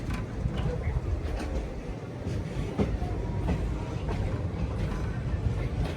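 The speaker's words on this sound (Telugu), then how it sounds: "మెల్లగా వరంగల్ స్టేషన్ లోపలికి అయితే ఎంటర్ అయిపోతుంది కృష్ణ ఎక్స్ప్రెస్." The Krishna Express easing slowly into Warangal station, heard from inside a coach: a steady low rumble of rolling wheels with faint, irregular track clicks, fairly even and subdued throughout.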